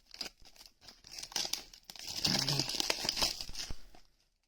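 Plastic and foil packaging of a Pokémon 151 booster bundle being torn open, close crinkling and ripping in uneven bursts that build to a dense, sustained tear before falling silent.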